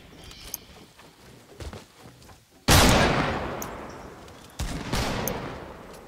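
Gunfire in the video game Fortnite: a sudden loud burst of shots after quieter rumbling, decaying over a second or so, then a second loud volley follows, with a few faint scattered pops earlier.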